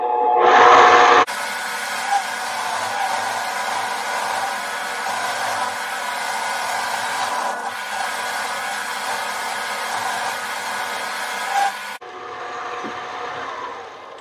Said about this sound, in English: this is the Harbor Freight mini lathe.